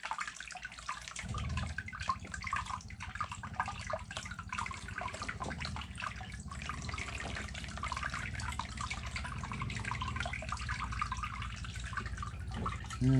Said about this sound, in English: that lets the water all go to one end and gets out of there quicker